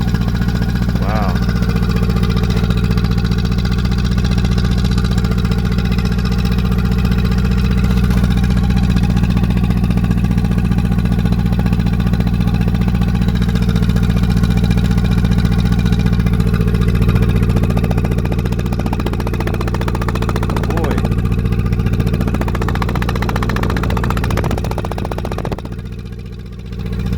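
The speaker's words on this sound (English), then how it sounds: "The engine sounds healthy enough" A 1974 first-generation Honda Civic engine idles steadily with a low, constant rumble and hum throughout, easing off slightly near the end.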